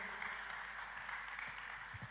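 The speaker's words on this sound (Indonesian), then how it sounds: "kita kasih tepuk tangan saudaraku" Church congregation applauding during a worship service, a steady, fairly quiet wash of clapping heard at a distance with no speech.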